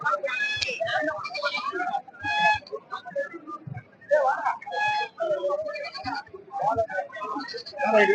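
Goats bleat repeatedly at a busy Saturday village goat market in Rettiyarpatti, Tamil Nadu, their calls scattered among nearby people talking.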